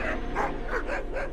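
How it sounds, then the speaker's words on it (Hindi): A dog barks in a string of about five short, evenly spaced yips and woofs over a low steady hum, fairly close and clear, with no talk over it. "अरे ये कुत्ते की आवाज कहाँ से आ रही है?"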